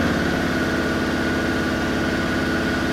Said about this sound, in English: Let me just increase the revs.